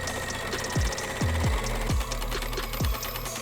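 An embroidery machine stitches onto felt with a steady mechanical whir, broken by several quick low thumps as the needle drives through, loud and close with no voices.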